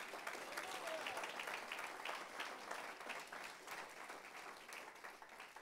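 Applause from a church congregation during a Spanish-language sermon, a steady wash of many hands clapping that holds for several seconds and eases slightly toward the end, with faint voices mixed in.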